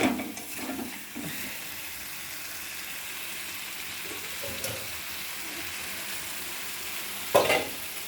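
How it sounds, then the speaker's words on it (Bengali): Chicken being stir-fried in a pan, a steady low sizzle with soft stirring scrapes throughout and a brief louder clatter near the end. "এবার চিকেনটা কষানো হচ্ছে।"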